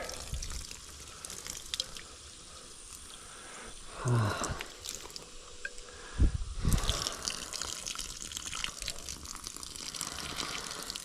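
Quiet trickling and gurgling water drains out of a cut water pipe hose in a pasture, with a couple of louder splashing gushes partway through, no talking.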